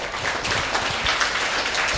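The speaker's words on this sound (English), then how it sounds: "So can we all clap for Sai Krishna?" A room full of people clapping steadily, dense and continuous for a couple of seconds.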